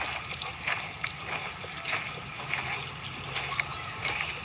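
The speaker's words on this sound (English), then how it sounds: "You hear the water?" Water flowing in a small backyard pond, a steady soft trickling and gurgling wash that stays fairly faint and continuous, with faint background ambience around it.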